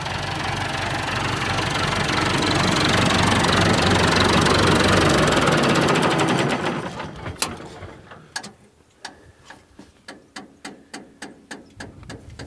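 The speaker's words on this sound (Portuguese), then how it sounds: "Deixei o trator ligado ali para baixar em cima do murchão." A farm tractor engine on a tobacco planting field runs loud and steady, then fades and drops away, leaving a series of sharp clanks and knocks ticking out in an irregular rhythm.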